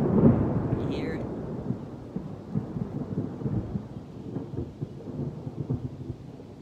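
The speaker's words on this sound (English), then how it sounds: "I love the sound of thunder" Low rumbling thunder rolls on a warm, sunny day at a goat farm, a soft continuous grumble after an early burst, with a voice speaking briefly near the start.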